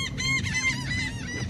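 Seagulls calling at a beach in the Bahamas, a quick overlapping flurry of loud, nasal honking cries close by.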